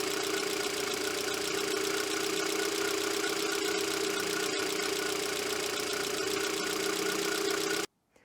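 Renault Clio petrol engine idling steadily before a valve clearance adjustment, a continuous close mechanical drone with a faint ticking texture, running alone for about eight seconds and then cutting off abruptly.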